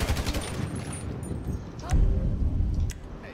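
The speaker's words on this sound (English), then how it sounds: "I've got a carbine rifle." Carbine rifle gunfire in the video game GTA V during a fight with a gang, rapid bursts of shots through the clip, louder near the end, over faint game ambience.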